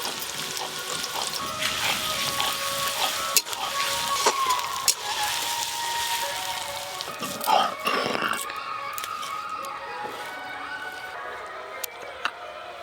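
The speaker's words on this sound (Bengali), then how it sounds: "এবার দেবো পেঁয়াজ কুচি" Chopped onion and ginger-garlic paste fry in oil for a country chicken curry, a dense close sizzle with a few clinks and stirring sounds, fading toward the end.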